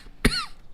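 A single sharp cough, close and fairly loud, bursts out briefly against a quiet background.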